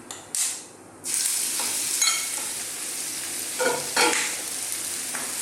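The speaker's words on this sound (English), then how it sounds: "I want to cook this beef for about 4 to 5 minutes, stirring all the time" Beef sizzles steadily in hot oil for a coconut curry, a loud continuous fry broken by a few sharp scraping stirs and bursts of spatter, with no voices.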